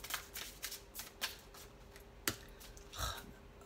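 Playing cards being shuffled up close, a series of quick riffling bursts and soft slaps in uneven rhythm, with no voices.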